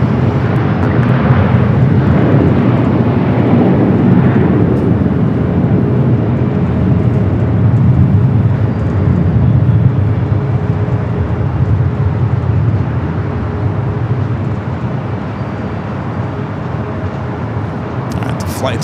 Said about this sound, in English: The 757 flight taking off there on the south.